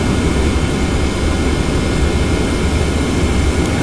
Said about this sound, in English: We're clear for takeoff, so increase the throttle. Let's spool up.